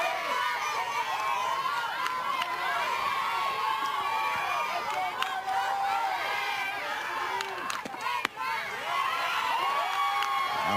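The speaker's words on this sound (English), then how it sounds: "This Oregon crowd, they're trying to get a rally going, starting from the stands." Crowd of parents and fans in the stands at an Oregon Little League softball game, steady loud cheering and chatter with shouting children, continuous throughout.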